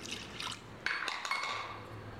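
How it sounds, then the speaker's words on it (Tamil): Water pours steadily into a metal pressure cooker with a splashing, hollow trickle, close by, with a few clinks partway through and no voices. "தண்ணி ஊற்றிக்கங்க வேணுங்கிற அளவு."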